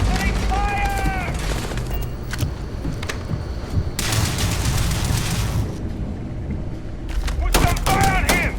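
Gunfire in the Starfield video game cracks out in scattered shots and short bursts amid combat shouting, loud and close with thuds between volleys.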